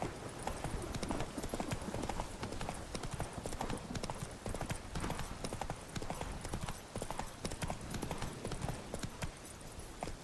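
Horse hooves clip-clop in a steady, brisk trotting rhythm throughout a medieval fantasy game, close and continuous.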